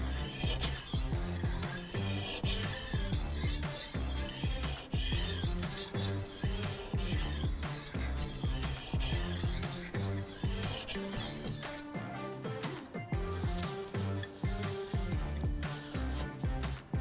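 A knife blade is sharpened with repeated rhythmic rasping strokes, close and steady with short scraping passes, and the tone changes slightly near the end.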